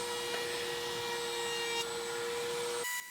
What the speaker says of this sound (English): The fastest and the easiest is probably going to be using a router table.